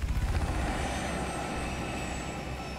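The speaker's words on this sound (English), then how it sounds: "helicopter?" Rotor and engine drone of a helicopter in the video game Crash Co., a steady, loud, continuous whir with a low rhythmic chop at the start, heard alone without talk.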